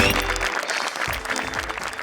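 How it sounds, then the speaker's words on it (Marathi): An audience at a live stage comedy show claps loudly as a makeup department crew member is called on stage, a dense burst of applause that holds steady for a couple of seconds. "मेकअप डिपार्टमेंट मधील अँथनी दादांसाठी जोरदार टाळ्या."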